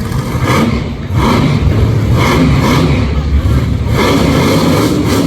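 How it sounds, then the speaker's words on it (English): A loud, steady Ford monster truck engine roars and revs continuously at a monster truck race, with a thick low rumble and clattering noise throughout, close by. "You can just hear that horsepower of that Virginia Giant Ford. One of the loudest trucks of the whole field."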